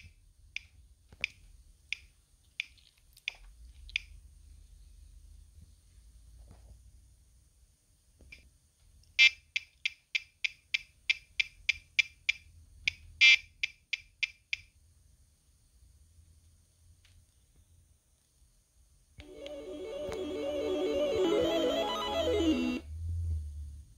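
A Gotek floppy emulator in an Amiga 500 ticks sharply as a game loads, isolated clicks then a quick rhythmic run of them, followed by a burst of chiptune-like game sound near the end.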